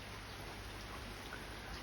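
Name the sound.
rain falling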